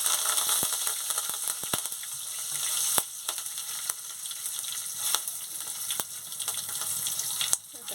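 Whole mustard seeds and curry leaves sizzle in hot oil as a tempering for a rupchand fish curry. A steady bright crackle runs throughout, dotted with sharp pops and a few utensil clicks, with no speech.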